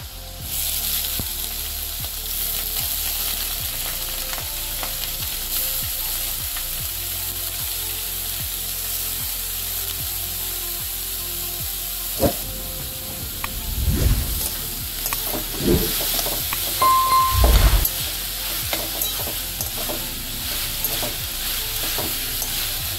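Potato and banana stem fry in a pan with a steady loud sizzle. A utensil scrapes and clatters in stirring bursts toward the end, and no one speaks.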